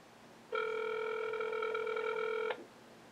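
A single long electronic ringback tone from a phone on speakerphone, boosted by a T-Mobile Cel-Fi signal booster, sounds steadily for about two seconds and then cuts off, clear and close against a quiet room.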